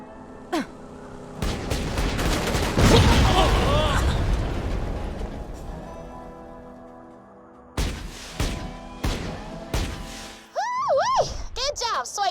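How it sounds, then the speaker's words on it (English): Explosions and gunfire in the video game Borderlands 2 boom and burst loudly through a long rolling blast, followed by sharp repeated shots and whooshing effects, with a character's voice speaking in between. "I saw those explosions from here."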